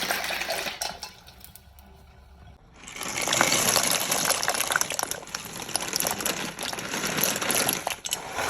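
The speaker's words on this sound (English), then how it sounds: "I'm gonna add in my pasta." Dry chickpea pasta pours into a pot of water on a stove, with a brief rattle followed by a sustained close rushing, bubbling wash of boiling water.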